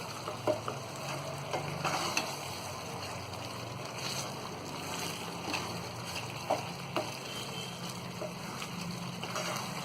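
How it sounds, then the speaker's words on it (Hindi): Paneer being stirred in a frying pan for matar paneer, a steady sizzle with soft scraping and occasional clinks of the spoon against the pan, no talking. "और पनीर को भी हम अच्छी तरह चला देंगे।"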